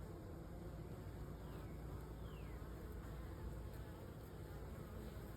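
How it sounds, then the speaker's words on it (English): A mass of honeybees hums steadily around a bucket swarm trap, their continuous low drone filling the air and staying even and fairly faint, with the occasional single bee buzzing past close by. "there's hundreds and thousands of bees in there"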